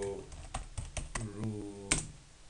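Typing on a computer keyboard while entering a command during a FreeIPA server setup on Red Hat or CentOS: a quick run of close, crisp key clicks with a faint voice underneath.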